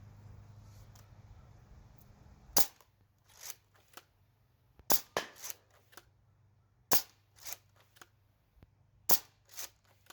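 A Nerf Mega Burn blaster fires AccuFake darts in a series of sharp, snappy pops, spaced a second or two apart, with lighter clicks of priming between shots.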